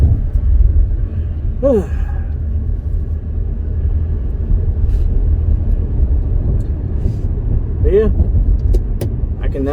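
A 2008 Chevy Impala with 137k miles drives along with a steady low engine and road rumble, a couple of rising whines marking gear shifts; someone speaks briefly over it.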